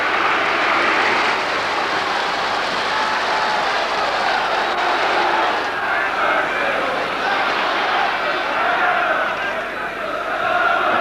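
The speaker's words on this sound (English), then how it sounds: "And listen to the crowd." A football crowd roars in the stands at the Baseball Ground in Derby, a broad, continuous wash of crowd noise that swells and dips slightly over eleven seconds, heard at a distance.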